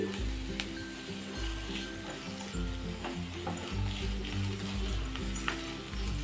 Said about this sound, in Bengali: লঙ্কা কুচি দিচ্ছি